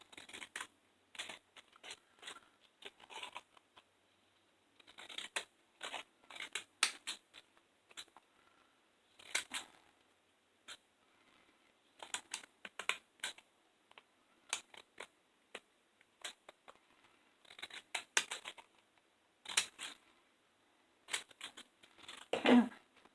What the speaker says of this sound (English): I'm just going to take some decorative scissors and go around the edge of it